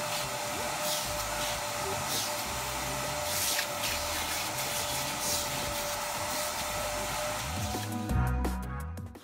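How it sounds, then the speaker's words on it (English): A vacuum cleaner runs hard and continuously on a fabric car seat, a loud, steady whine with rustling suction changes as the nozzle works the upholstery, then a short clatter as it stops. "a thorough vac to remove any loose dirt particles"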